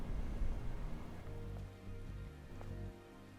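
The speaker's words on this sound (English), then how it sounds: "This must be Earth's rain." Steady rain falls across a ruined, colossal city in the video game Stellar Blade, a continuous soft patter with a few brighter drips standing out, heard alone with no talking.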